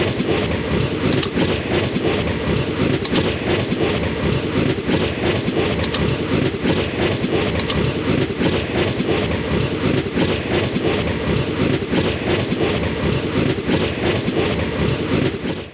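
A train runs along the rails near Nagercoil railway station, a steady close rumble with rhythmic clatter and a few brief high squeals, continuous throughout with no voices.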